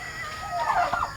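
Turkeys gobble in a short, close burst of warbling calls in a yard setting, with no talk over them.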